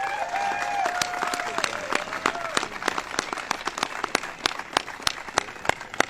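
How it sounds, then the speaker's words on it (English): An audience applauds at a White House ceremony honoring the 2016 Super Bowl champion Denver Broncos, a dense wash of clapping with sharp individual claps standing out, while a faint voice lingers briefly at the start. "let's give a big round of applause to Mrs."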